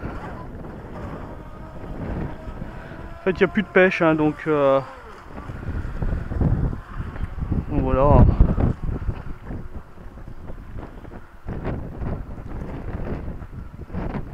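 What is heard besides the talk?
wind on the water while driving a Feilun FT011 RC boat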